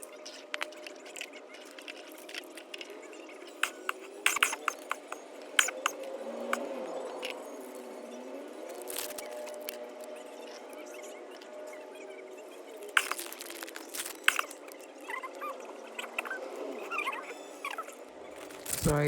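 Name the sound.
unwrapping packaging of a Miniverse mini fruit smoothie kit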